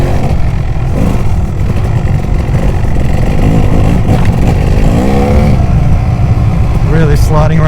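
A Kawasaki KX250 two-stroke enduro bike rides a woods trail, its engine droning loud and close and rising in revs as the rear tire spins and slides, with wind rumble throughout.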